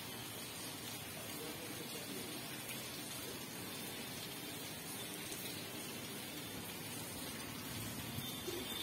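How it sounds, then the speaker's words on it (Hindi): Steady, even rainfall hissing continuously, a dense wash of drops on surfaces with no voices, unchanging in intensity. "यहाँ पर बारिश हो रही है, बारिश का मजा ले रहे हैं"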